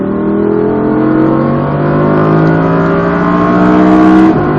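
An Audi R8 accelerates hard at full throttle in Las Vegas, its engine note climbing steadily in pitch for several seconds, loud and close, before cutting off abruptly near the end.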